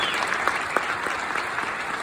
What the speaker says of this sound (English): Let's give Robin and Dave a round of applause.